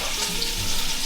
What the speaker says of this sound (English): And I'll just add 2 cups of water